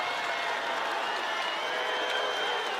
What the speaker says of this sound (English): The crowd didn't like it.